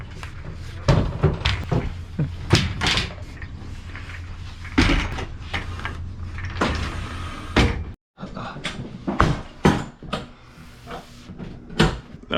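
A door at a scrap metal site is opened and closed, with repeated loud thumps, clanks and bangs over steady background noise as people move something through the doorway.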